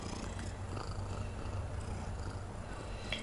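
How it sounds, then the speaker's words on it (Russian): A hungry cat purring at lunchtime, a soft, steady low rumble heard close up and quiet, with a faint background hiss and no voices. "кошка голодная, время обед."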